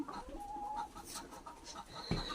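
Chickens on a poultry farm clucking and murmuring nearby, several birds overlapping in irregular short calls, with one louder squawk near the end.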